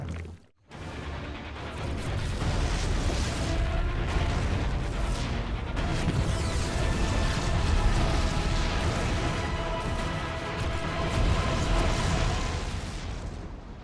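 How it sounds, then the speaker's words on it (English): Explosions in a StarCraft II: Heart of the Swarm cutscene aboard a Protoss ship: after a brief silent gap, a long loud roar of booming blasts, rumbles and crashes runs continuously, dense and heavy, without talk. "The explosions have stopped."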